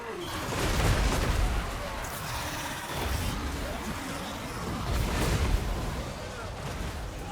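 Artillery pieces firing during a Warhammer fantasy battle in the video game, heard as a dense rumble of booms and distant volleys rising and falling in waves across the clip.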